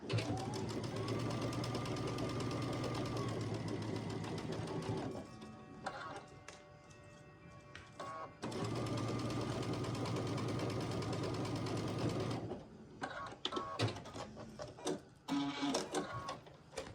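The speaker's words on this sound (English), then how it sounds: "line up that seam and pin it so it doesn't wiggle, and then sew down that side" Two runs of a sewing machine stitching a quilt block seam whir steadily and loudly at close range, each lasting several seconds, separated by quieter handling and clicks of fabric and machine.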